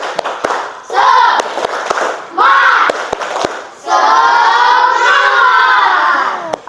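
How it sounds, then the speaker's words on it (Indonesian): A school class does a rhythmic spirit clap (tepuk semangat): sharp, sparse group handclaps alternate with long, loud chanted shouts from the children, ending on a final clap. "Tepuk semangat."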